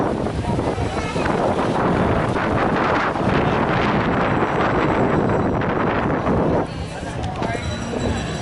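Strong wind roars and buffets the microphone in a constant loud rush on a street during the Dinagyang festival in Iloilo, easing slightly near the end, with voices faintly underneath.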